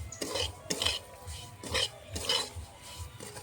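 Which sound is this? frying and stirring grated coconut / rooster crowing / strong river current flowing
frying and stirring grated coconut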